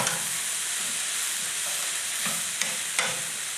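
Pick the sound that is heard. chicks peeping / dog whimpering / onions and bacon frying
onions and bacon frying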